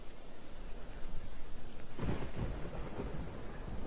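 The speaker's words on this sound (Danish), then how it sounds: "Regnen, den brænder på ens hud." Heavy toxic rain pours steadily in the Roblox camping game, a dense hiss of drops with a deep rumble of thunder swelling midway, loud and close, no voices.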